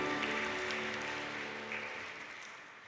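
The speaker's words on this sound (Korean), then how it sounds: "하나님께 축복의 박수를 드립니다." Congregation clapping in a church service, a dense steady wash of applause that stays fairly loud throughout and slowly tapers off, with organ or music tones sustained underneath.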